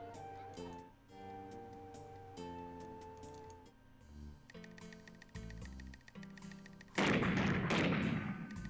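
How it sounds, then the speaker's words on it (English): In the Dead Horizon video game, a single loud gunshot cracks from behind a bar, a sudden broad blast that cuts in after a stretch of tonal game music and rings out near the end. "Sounded like there was a gunshot from back behind the bar."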